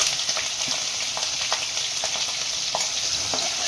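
Green chillies and onions frying in hot oil, a steady dense sizzle with faint scraping stir strokes popping through at intervals, close and without any talk.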